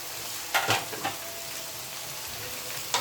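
Potatoes and pointed gourd are stirred in a hot frying pan for a morola fish chorchori, with a few scraping strokes over a steady, low sizzle and one more scrape near the end.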